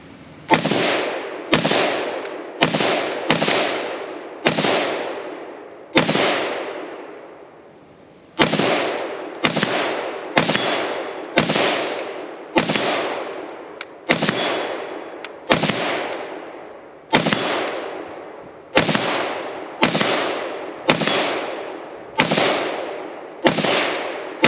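A Steyr AUG bullpup fires at steel targets in a steady run of sharp, loud, close shots, about twenty in all, some in quick pairs, with one short pause in the middle.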